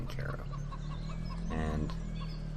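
Chickens cluck in short, repeated bursts in a Farming Simulator 2013 farm yard, set against a steady low hum of game ambience.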